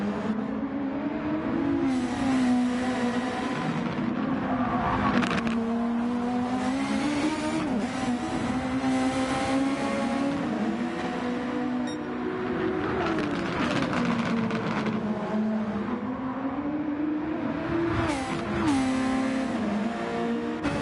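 Super Formula race cars lapping Trial Mountain Reverse in Gran Turismo 7, a loud, continuous engine drone that rises and falls through gear changes and repeated bursts of acceleration, with no talking.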